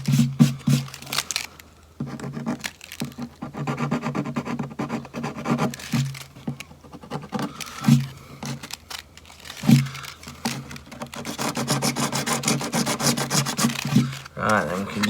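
Sandpaper rubs back and forth over a vintage guitar neck, stripping old varnish from the wood in steady rasping strokes, close and fairly loud, with short pauses between passes and a little talk mixed in.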